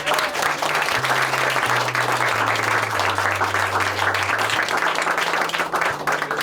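Steady applause from a large crowd at a Hall of Fame induction fills the room, a dense wash of clapping that holds at an even level throughout.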